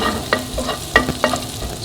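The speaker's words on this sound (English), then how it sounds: "Add a little bit of butter and deglaze all that garlic infused pan there" Butter sizzling in a hot garlic-infused pan, a steady soft fry broken by several sharp spatula scrapes and stirs, close up with no talking.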